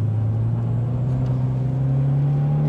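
A Toyota 86 drifting under acceleration gives a loud, close, steady engine drone whose pitch climbs gradually, with no voices over it.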